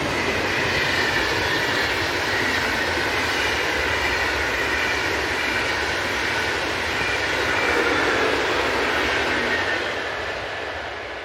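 Swiss electric locomotive 460-104 hauling a passenger train toward Romanshorn rolls past in a loud, steady roar that holds for several seconds before easing slightly at the end.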